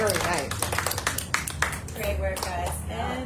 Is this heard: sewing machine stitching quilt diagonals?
no